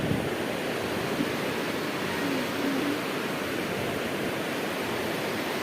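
Sea waves at Digha Mohona beach on a cloudy day with the tide slowly rising, a constant broadband wash of surf heard close and steady, with no voices.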